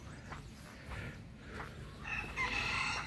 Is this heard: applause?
no